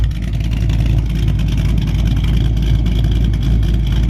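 A 2008 Mustang GT with a straight-piped exhaust roars loudly up close, a deep, heavy rumble held steady at high revs for the whole stretch with no voices.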